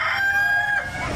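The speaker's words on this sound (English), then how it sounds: "These are some Bantam silky chickens." Bantam Silkie chickens at an amusement park call out with a drawn-out, wavering vocalization, loud and close, ending in a few softer clucks.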